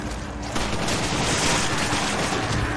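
Shotgun fire from the video game Resident Evil 5 comes as a loud, dense, continuous burst of blasts and crackle that fills the whole stretch, with no talking over it.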